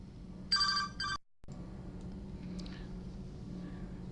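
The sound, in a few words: telephone ringing in Mass Effect 3 gameplay video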